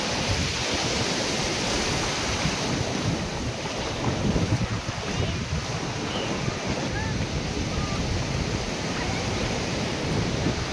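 Indian Ocean breakers rolling in at Puri Beach, a steady broadband roar of surf mixed with wind buffeting the microphone, continuous and loud throughout with no clear separation between individual waves.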